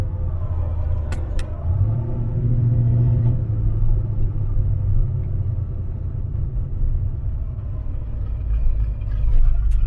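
A turbocharged small block Chevy V8 with FiTech EFI runs in a Camaro, giving a loud, close, continuous low rumble with a slight rise in the middle and no talking.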